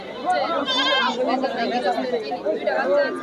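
A goat bleats with a wavering cry over a dense background of crowd chatter and people talking nearby at a goat market where prices are being bargained.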